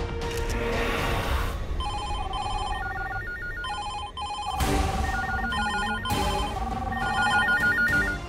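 A telephone rings loudly and close by, its electronic melody playing in repeated bursts over a dramatic music background, with no talk.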